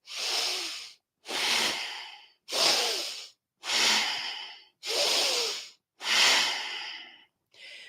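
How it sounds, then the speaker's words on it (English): Slow, strong diaphragmatic breathing through the nose, bellows-style: six forceful, even breaths close up, each a long rushing airflow followed by a brief pause, with no other sound. "It's a very strong diaphragmatic breath."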